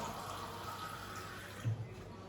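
Water runs briefly from a tap into curry powder for a kam heong chicken paste, a soft steady trickle in a quiet kitchen with a small splash near the end.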